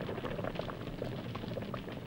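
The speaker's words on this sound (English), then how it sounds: "if he soaked himself in 3 vats of boiling milk" Cartoon sound effect of milk boiling in vats: a continuous bubbling, popping burble with small irregular plops, moderately loud and heard on its own.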